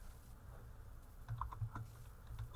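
Typing on a computer keyboard, faint and close, a quiet scatter of soft key taps without talk.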